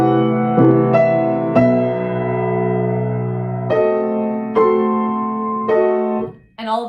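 Piano chords played slowly and haltingly, each jump arriving as a separate struck chord with uneven pauses between them, ringing and fading before the next one lands.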